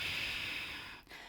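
A single soft inhale during a yoga flow, faint and close, a breathy rush that tapers off at the end with no speech.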